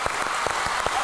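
A studio audience at The Voice of Armenia TV singing contest claps for contestant Narek, a brief dense burst of applause with a few distinct sharp claps standing out close by.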